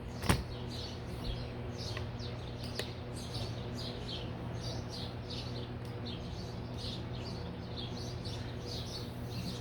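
Many small birds chirp and tweet steadily in the distance over a constant low hum, with a couple of faint knocks early on.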